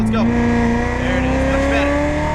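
A Corvette Z06 Stingray accelerates hard on a Las Vegas racetrack, its engine note climbing steadily and loud from the cabin as throttle is fed in out of a corner.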